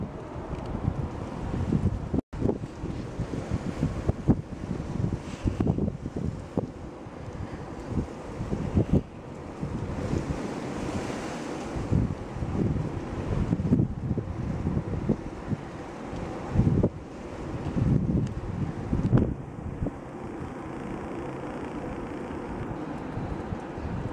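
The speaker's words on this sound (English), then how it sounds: "After 60 mile an hour gust like that." Strong chinook wind gusts roar across the microphone outdoors, a continuous loud buffeting rush that swells and eases over the whole stretch.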